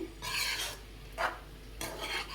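Shredded cabbage being stirred in a frying pan: three scraping, rasping strokes of a spatula against the pan with soft sizzling, close by and fairly quiet, no voices.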